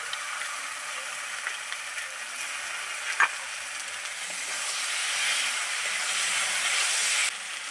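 Ground ginger, garlic and spice paste fries in a pan for a fish curry, making a steady, close sizzle that builds slightly toward the end, with no speech.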